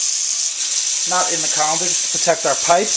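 Cold water runs steadily from a kitchen tap into a sink holding a colander, a broad constant hiss under a person speaking nearby.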